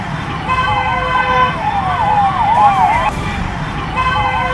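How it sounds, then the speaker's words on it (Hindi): A police siren wails through a Jaipur street, its rising and falling tone repeating over steady traffic noise, loud and fairly close. "पीस 2 के आखिरी हिस्से में आपको पुलिस सायरन की आवाज साफ सुनाई दे रही होगी।"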